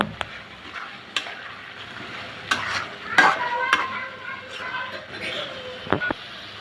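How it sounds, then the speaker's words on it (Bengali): Dried molai fish curry with helencha greens and chopped coriander is stirred in a pan. There is a soft sizzle with intermittent spatula scrapes and clinks, plus a brief murmur of voice. "এখন আমি নেড়ে চেড়ে নামিয়ে নিব।"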